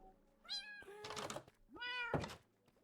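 A cat meows twice indoors, each call a drawn-out rising and falling cry, close and fairly loud, with dull thumps and knocks between the meows.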